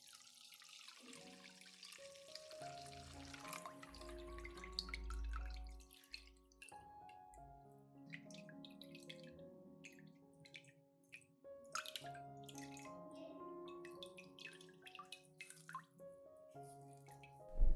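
Two liquid fertilizer solutions for orchids poured and mixed together, drips and trickling splashes near the microphone with a low gurgle partway through, no voices.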